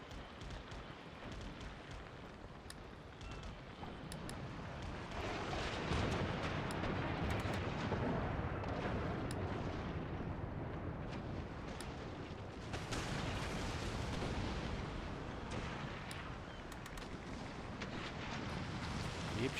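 Artillery and musket fire crackle in an Empire Total War battle with Prussian forces, a dense continuous roll of distant shots and booms with wind-like rumble, no voices.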